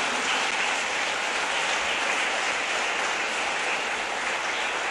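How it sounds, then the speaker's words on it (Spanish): Congregation applauding the risen Lord at an Easter Sunday Mass, a dense, even wash of clapping sustained for several seconds without talk. "Démosle un aplauso al Señor resucitado"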